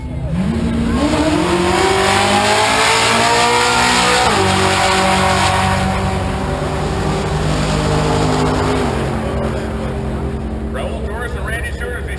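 A drag race car at the NMRA Spring Shootout, Bradenton Raceway, Florida, roars loudly down the strip. The engine pitch climbs steadily, with shifts near four and nine seconds, while an announcer talks over the noise.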